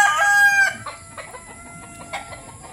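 A rooster's strained crow fades into soft, scattered clucking from chickens nearby.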